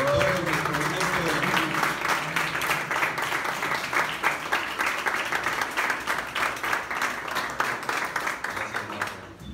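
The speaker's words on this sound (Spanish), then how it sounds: "Que le pido a Marco un fuerte aplauso para él" A crowd at the Morelia International Film Festival near the Coco red carpet applauds Marco, steady and lively clapping with some rhythmic, in-unison pulses, a voice briefly audible at the start, continuing for nearly ten seconds.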